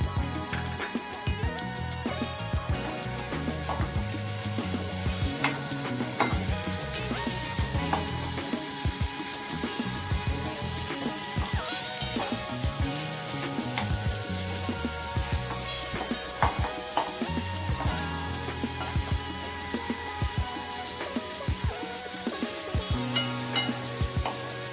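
Carrots and capsicum stir-fried in a hot pan, a continuous close sizzle with frequent scraping and stirring clatter running throughout, no talking.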